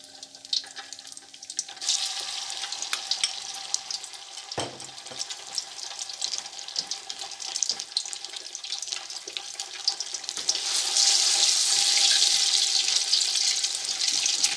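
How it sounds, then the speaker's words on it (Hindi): Khoya frying in desi ghee in a pan for mutanjan, a steady soft hiss and crackle with faint stirring scrapes, growing louder and denser toward the end, with no voices. "ये हमने खोया डाल दिया इसमें, घी में भूनेंगे इसको।"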